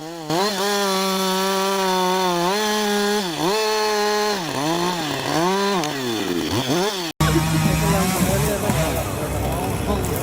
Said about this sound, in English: they prune tree branches with chainsaws